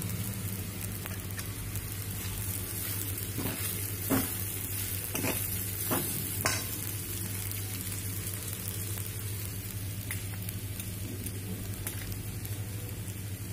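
Sago pearls and potatoes stir-fried in a pan for sabudana khichdi make a quiet, even sizzle, with a run of light scraping stirs near the middle and then a steady hiss.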